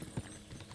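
A horse's hooves thud in a quick galloping rhythm through a forest during a horse race in the video game Kingdom Come Deliverance II, a few soft beats over steady ambient noise.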